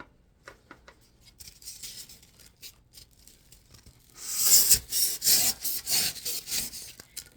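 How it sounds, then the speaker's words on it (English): A foam knife trimming foam during a craft build: light scattered scraping cuts at first, then a run of loud, close, rhythmic rasping strokes sawing through the foam. "I'm just using this knife. I think I got that off of Amazon. It's a foam knife."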